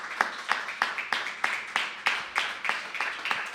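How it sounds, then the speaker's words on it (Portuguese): A church congregation at a Tuesday evangelical service in Americana, São Paulo, claps in a steady rhythmic round of applause, about a dozen sharp, evenly spaced claps at moderate loudness with no talking over it. "Uma salva de palmas, nosso Senhor Jesus Cristo"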